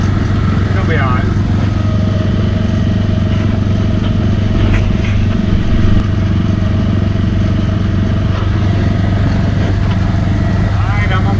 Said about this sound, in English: Just gonna leave the motor running and try to get to another field real quick